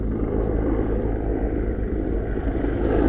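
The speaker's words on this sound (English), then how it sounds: "Look at that helicopter, Axel." A large helicopter passing overhead gives a steady low rumbling drone, moderately loud and continuous, with no voices over it.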